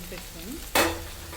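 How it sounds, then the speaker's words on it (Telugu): Papads drop into hot oil while frying as a side for pappu charu, a sudden loud sizzle bursting up after a quiet moment, then settling into a steady crackle. "చారులోకి కొంచెం అప్పడాలు వేయించుకుంటున్నాము"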